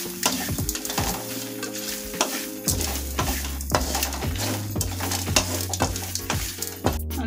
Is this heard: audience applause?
no